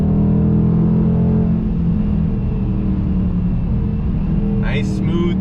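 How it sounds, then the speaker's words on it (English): A Dodge Challenger T/A muscle car engine pulls through its rev range, a loud steady rumbling drone that rises in pitch and then settles, with a brief burst of talk near the end. "Just pulls all the way through the rev range."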